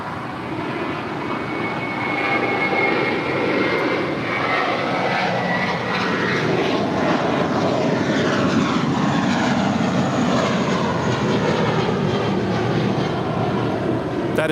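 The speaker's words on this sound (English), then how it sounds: "That is Spirit 266 departing to Philly. It's a 3-year-old Airbus A320." A three-year-old Spirit Airbus A320 departing LAX makes a loud, sustained jet roar that swells and holds for the full length, with broadband rumble and shifting whine as it passes, no talking.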